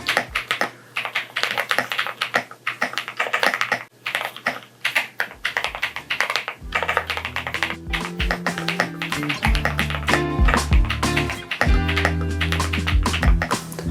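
Fingers type on an EpoMaker Shadow S mechanical keyboard, producing rapid close clacks in uneven bursts, while a deeper tonal layer with sustained notes comes in over the second half.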